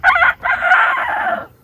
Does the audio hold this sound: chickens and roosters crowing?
yes